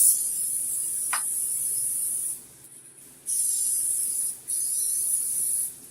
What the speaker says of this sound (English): I'm going to kind of spray this with some cooking spray